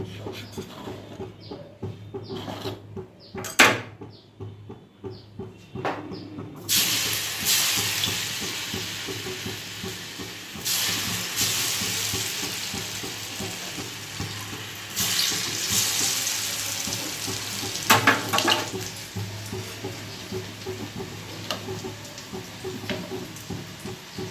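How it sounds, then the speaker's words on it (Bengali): Dhoka, Bengali lentil cakes, frying in hot oil in a wok, with a steady bubbling sizzle that swells after a few quieter seconds of clinks and handling, plus occasional scrapes and stirring. "তেলটা গরম হয়ে গেছে, এবার আমি এগুলোকে ভেজে নেব, ধোকাগুলোকে।"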